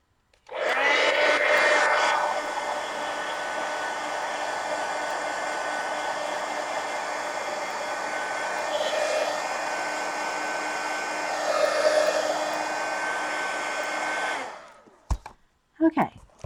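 A handheld hair dryer blows steadily on a collage page in an altered book, drying the matte medium, a loud continuous whir running about fourteen seconds before it clicks off, followed by a few brief handling knocks.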